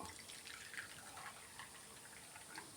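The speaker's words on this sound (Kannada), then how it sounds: "ನಾನಿಲ್ಲಿ ಬಿಸಿ ಹಾಲು ಸೇರಿಸ್ತಾ ಇದ್ದೀನಿ" Hot milk is poured onto flattened rice (avalakki) in a bowl for payasa, giving a soft, faint continuous liquid trickle and splash close by.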